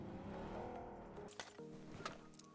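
Vehicle engine in the PUBG Mobile video game, a steady droning motor that fades slightly, broken by a couple of sharp short cracks, with no talking.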